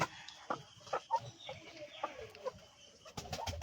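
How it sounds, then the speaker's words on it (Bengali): Chickens, including Kadaknath hens, cluck and squawk in short, irregular bursts inside a coop shared with a turkey, with other birds calling close by. "এই হচ্ছে আমার মুরগিগুলো"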